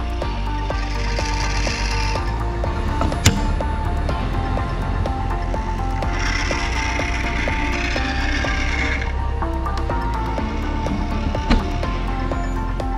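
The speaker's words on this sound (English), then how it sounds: "the mobile robot will proceed to collect the tray and return to the start station" An Epson industrial robot arm works alongside a mobile robot in a production cell, with a steady mechanical hum and recurring whirring servo movements, plus two sharp clicks.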